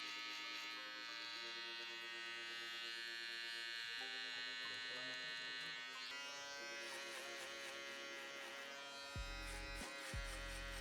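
An electric shaver buzzing during a bald fade haircut, a close, steady high-pitched electric hum whose tone shifts as the blade moves over the head, with a few soft thumps near the end.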